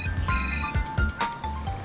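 A phone ringtone chimes in short repeated electronic bursts, fairly close and clear, signalling an incoming call from mom.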